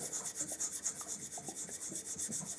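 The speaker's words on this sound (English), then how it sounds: "I'm now polishing the back of it on a medium oil stone." A plane or chisel blade rubbed back and forth on a medium oil stone, a steady rhythmic scraping with even strokes about three per second, close and quiet.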